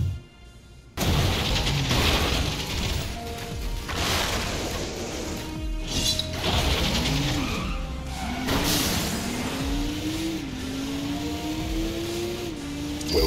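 A Transformers robot in vehicle mode drives in Revenge of the Fallen, with loud engine roar and tire skids. Rising and falling engine pitch sweeps repeatedly over crashing booms, close and continuous.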